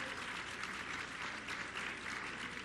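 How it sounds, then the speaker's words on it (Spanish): An audience claps at the inauguration of a national high school in Jalisco, Mexico, giving a brief, steady burst of dense applause that stays at one level throughout, with no voices on top. "Y un gran aplauso al secretario de Obras, Jesús Esteva, que fue el que construyó esta"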